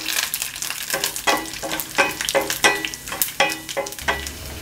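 Peanuts, chana dal and curry leaves frying in oil for curry-leaf chitranna, a loud close sizzle broken by rhythmic stirring scrapes about twice a second, with no voices.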